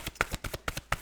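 Tarot cards being shuffled by hand, a quick run of about eight crisp riffling slaps in a steady rhythm, close and clear with no talking.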